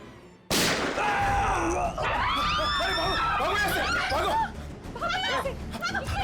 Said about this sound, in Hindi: अंदर गोली चली अंदर।